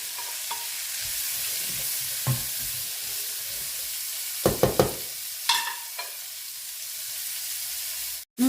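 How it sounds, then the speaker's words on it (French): Six hundred grams of onions sautéing in a pan give a soft, steady hiss broken by a few stirring scrapes and clatters near the middle, close and moderately loud with no speech, ending in a sudden cut. "j'ai mis 600 grammes d'oignons que je vais faire aussi revenir"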